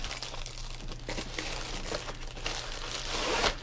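Packing tape pulled off and crinkled while a parcel is unboxed, producing close, continuous crackling and tearing with brief louder crunches, no speech.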